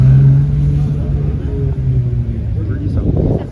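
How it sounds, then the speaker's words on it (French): A Porsche 911 GT3 Touring passes on a street in Zürich with a low engine rumble, moderately close, while someone talks over it. "Encore une GT3 de 92. Très belle GT3 Touring."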